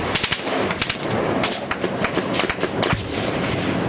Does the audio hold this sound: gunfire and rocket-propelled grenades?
yes